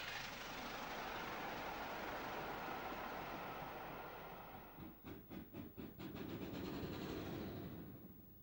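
British steam locomotive 70013 Oliver Cromwell runs on the mainline, a broad roaring hiss of steam and motion that swells and fades, with a brief run of rhythmic rail clatter near the end.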